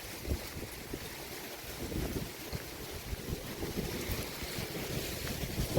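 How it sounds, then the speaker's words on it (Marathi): Strong wind roars steadily into the microphone, a constant rushing buffet with low gusty rumbles and no voices. "तर वारं लय सुटलं या"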